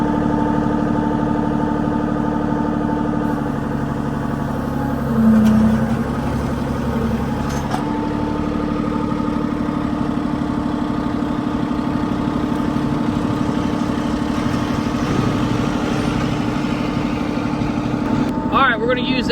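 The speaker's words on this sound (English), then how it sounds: "We're going to use the excavator and try to clean up all that sawdust that we dug out" An excavator engine runs steadily at a 1940s circle sawmill while clearing sawdust, a continuous low rumbling drone at close range with slight shifts in load and occasional faint clanks.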